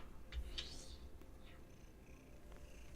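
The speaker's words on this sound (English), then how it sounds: "you're purring now" A cat purrs softly up close, a low continuous rumbling drone with faint background sounds over it.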